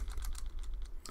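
A computer keyboard is typed on in a brief, steady run of close key clicks over a low hum.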